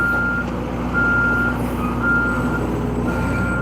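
Reversing beeps sound in a steady repeating pattern as a truck backs into a loading dock at door 12, over a constant low engine rumble with no talk.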